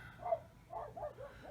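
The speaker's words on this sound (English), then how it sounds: "Y'all, you're gonna have to excuse my dogs." Several dogs bark outdoors, sounding somewhat distant: a few separate, moderately loud barks spread across a short stretch, with low background noise between them and nobody talking.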